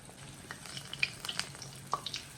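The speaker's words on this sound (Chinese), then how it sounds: "我们直接像这样给它下进油锅里面。" Pieces of vegetable cake dough with egg frying in hot oil, a soft bubbling sizzle broken by a few sharp pops and crackles, quiet and close.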